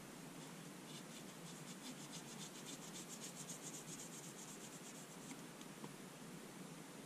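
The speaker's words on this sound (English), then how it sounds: "grab yourself a paper towel, fold it up, and then stick that corner up in there" A folded paper towel corner scrubs inside the handle of a 1095 high-carbon steel pocketknife during cleaning, giving a steady, faint, close-up papery rubbing and rasping that runs continuously without any voices.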